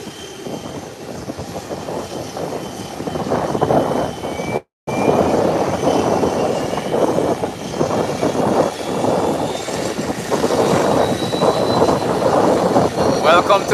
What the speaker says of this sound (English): American Airlines is heading to the threshold of the runway to head back into Miami.